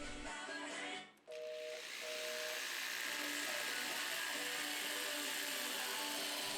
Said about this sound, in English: I secure the first side of the fence.